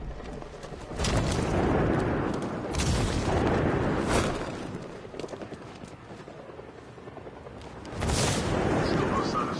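Gunfire in the Batman Arkham Knight video game comes as heavy booming bursts and sustained rumbling blasts, loud and dense, with a few sharp peaks standing out above a continuous roar of combat noise.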